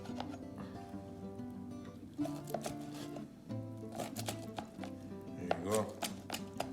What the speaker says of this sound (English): I'm gonna take a slice of this and cut it into little cubes.